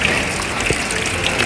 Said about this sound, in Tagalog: Tanggalan mo ng tubig doon sa May lababo naman dyan, Jay.